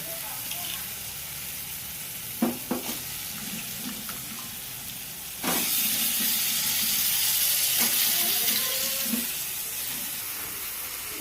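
Vegetables tipped into hot oil with fried cumin and dried red chillies in a pan, sizzling steadily, then surging into a louder, close, broadband hiss partway through, with a few light utensil clicks.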